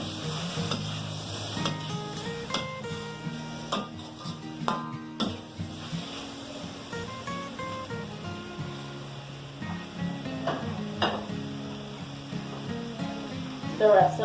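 Shrimp and pak choy stir-fry in a pan with a continuous sizzle and the scrape and clatter of stirring, close by, while a voice talks over it and music plays in the background.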